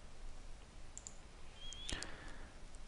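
A single computer mouse click, plus a couple of faint small clicks, sharp and close in a quiet room.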